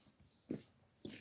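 Dogs give two short, sharp barks or yelps about half a second apart, faint and somewhat distant against a quiet background.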